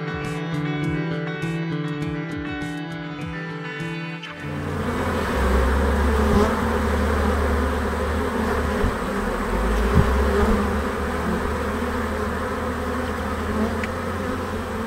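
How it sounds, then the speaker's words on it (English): A steady murmuring hum of bees in a London summer setting, buzzing close and continuous on its own after a brief burst of music at the start. "The well-known murmuring hum of bees is without doubt one of the telltale signs that summer has once again finally arrived."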